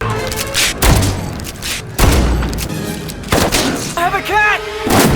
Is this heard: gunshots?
yes